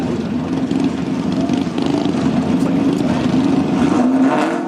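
Cadillac drift car running through the first outer zone of a drift course at LS Fest East, a steady loud engine drone held throughout with a faint voice underneath.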